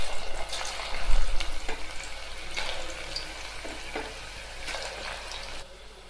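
Thin potato slices sizzle and bubble in hot oil in a home kitchen, a loud, continuous frying hiss with bursts of crackling and occasional stirring, no voices.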